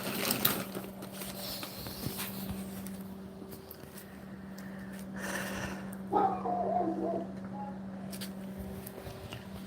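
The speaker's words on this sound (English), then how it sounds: "Dogs are going nuts." Dogs bark at a house, giving a few scattered, muffled yips and barks over a steady low engine hum.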